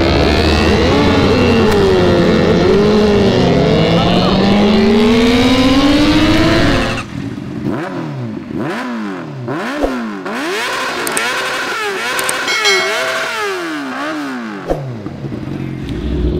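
Several cars rev hard and pull away one after another on a night street in Cirebon, loud and close at first, then a string of revving passes with rising and falling engine pitch as the group breaks up.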